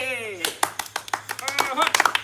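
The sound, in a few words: loud clapping from the audience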